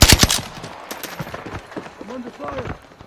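Rapid bursts of gunfire from the video game Modern Warfare 2 open loudly and then keep crackling more faintly, with a game voice chiming in and people talking over it.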